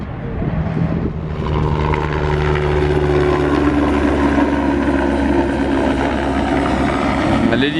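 A rescue helicopter over an airfield produces a steady, loud rotor-and-engine drone with a low throbbing hum that stays constant throughout, while people talk over it.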